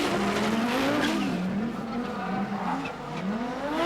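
1990 Race of Champions four-wheel-drive race car sliding sideways on opposite lock, tires squealing in wavering, sustained howls over a loud engine roar.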